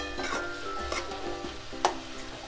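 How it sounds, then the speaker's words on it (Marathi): Fresh karandi shrimp frying on low gas in a pan, a soft sizzle with stirring scrapes and occasional utensil taps, close and unaccompanied by speech. "ह्याला चांगलं फ्राय करायचं आपल्याला, एकदम कमी गॅस करून."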